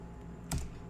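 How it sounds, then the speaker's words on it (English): A single key press on a computer keyboard while typing code, one short, close click standing out against a quiet background. "press space, and type if"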